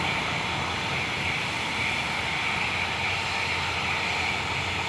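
Large airplane on the ground departing for takeoff, a loud, steady engine roar and broadband rumble filling the whole stretch with no talk.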